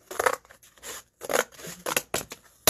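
Scissors snipping through paper for a craft, several close, crisp cutting strokes in uneven bursts with short gaps between them, no one speaking.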